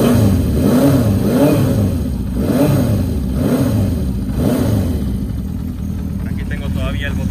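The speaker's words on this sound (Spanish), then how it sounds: "Aceleramos un poco la moto." A Honda CB 400 Four cafe racer motorcycle engine revs up and down repeatedly in rhythmic swells close by, then settles into a steady idle.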